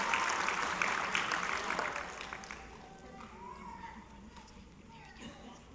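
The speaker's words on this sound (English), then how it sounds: "I'm going to let you applaud for each of these guys" At a fifth-grade graduation in Sonora, 2013, a fairly distant audience applauds for the graduating students. The clapping is strongest at the start and fades away as a speaker begins talking.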